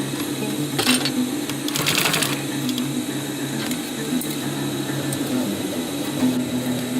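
A sewing machine runs steadily, stitching over the folded-under edge of a homemade surgical mask, with a continuous close motor whir and a few brief louder bursts of needle clatter.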